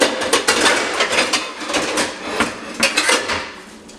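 Metal pots and pans clank and knock together, loud and close, in a rapid irregular series of bright hits with no talking.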